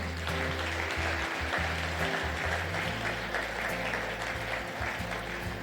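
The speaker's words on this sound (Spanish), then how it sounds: "Denle un aplauso al Señor." A church congregation applauds, a dense continuous wash of clapping over a steady low music bed that holds throughout without pause.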